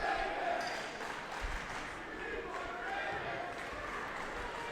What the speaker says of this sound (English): The loud crowd shouting they want Davis